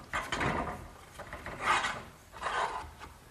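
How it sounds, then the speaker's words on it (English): Metal conduit sliding through a hole drilled in wood and through an eye bolt on a garden swing makes three quiet, close scraping rubs with short pauses between them. "Now the conduit just gets slipped through the hole I drilled and through the eye bolt."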